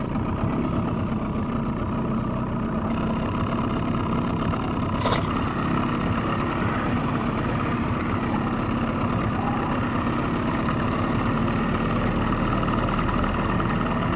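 A motorboat engine runs at a steady, constant drone while the boat crosses a lake, loud and continuous with low rumbling and wind-like noise, no talking.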